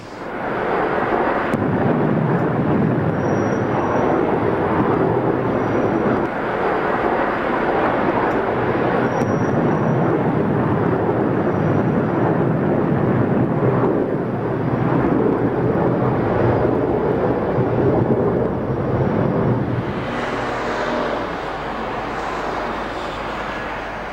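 A passenger airliner finally touching down after four aborted landing attempts, a loud, steady roar of engines and rushing air filling the whole stretch, with a brief break near the start and a shift in tone toward the end.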